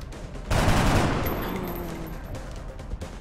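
Gunfire from a squad soldier in XCOM: Enemy Within, a loud burst of shots that trails off into a fading rumble and lingering tones, with no talk over it.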